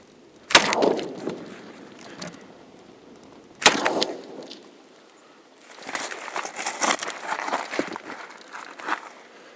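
Two sharp, loud shots from a Glock 10mm pistol crack out a few seconds apart while hunting caribou outdoors, each followed by a short decay, then rustling and shuffling movement nearby.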